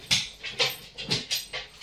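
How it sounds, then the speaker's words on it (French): A dog worked up at a pillow gives several short, sharp barks or yelps in a quick irregular series, close and fairly loud, with no one talking. "c'est mon chien qui est en train de s'énerver sur l'oreiller."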